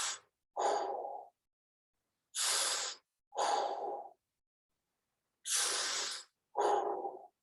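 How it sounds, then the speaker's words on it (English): Slow, deep breaths during a relaxation stretch come in three clear pairs, each a long airy inhale followed by a softer exhale, close and distinct with silent gaps between. "and breathe."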